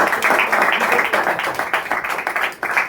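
Loud applause from an audience at an 11th anniversary celebration of a coaching class, many hands clapping in a dense, steady burst for about three seconds.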